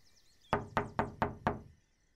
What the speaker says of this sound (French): 3 énormes coups résonnent dans le manoir.